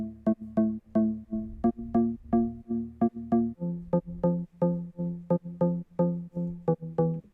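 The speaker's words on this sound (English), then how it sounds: "this is actually a preset from my Serum preset pack Metamorphosis that I've slightly adjusted" Serum synth bass preset from the Metamorphosis pack, lightly adjusted, plays a bouncy UK garage line: short pumping notes in a steady syncopated rhythm, each swelling back in after a sidechain duck, loud and dry with no voices.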